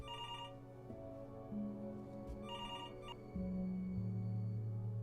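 Telephone ringing in the video game Before Your Eyes, a steady repeating electronic ring tone in bursts, moderately quiet with a low musical drone beneath and no talk.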